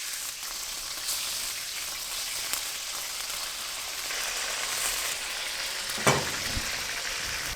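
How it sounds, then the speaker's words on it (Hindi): Chicken fries in hot oil in a karahi for a boneless chicken karahi, giving a steady, dense sizzle throughout with a few sharper crackles and a brief louder burst near the end, no voices present. "ऑयल गर्म हो गया, अब हम इसमें चिकन शामिल करेंगे।"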